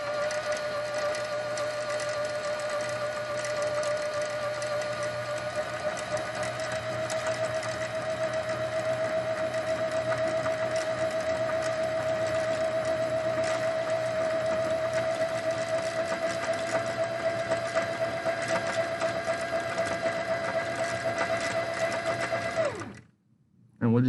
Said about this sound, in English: So I'm pressing down. You can see the bobbin is spinning, top thread is spinning.